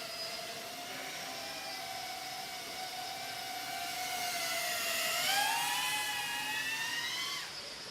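A small FPV drone flies steadily with a continuous high-pitched motor whine that rises and shifts in pitch as it maneuvers, alone and moderately loud.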